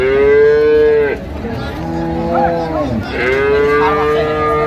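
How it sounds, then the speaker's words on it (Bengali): Cattle at a rural cow market in Jamalpur, with cows and bull calves for sale, give two loud, long, near moos separated by a short pause, with faint background murmur between. "এটা ষাঁড় বাচ্চা"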